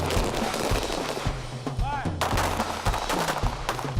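Gunfire at the Newport News Police Department firing range on Fort Eustis Army Base: sharp, loud shots crack repeatedly in irregular bursts, some overlapping, with range noise between them.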